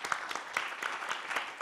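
Audience applause at a panel discussion: a short burst of scattered clapping, moderately faint and fairly even, with no voices over it.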